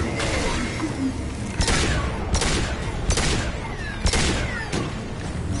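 Weapon fire in the video game Mass Effect 2: a loud, dense barrage of gunfire with several heavier booming blasts at roughly regular intervals over a constant rumbling backdrop.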